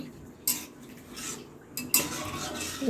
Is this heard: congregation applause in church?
no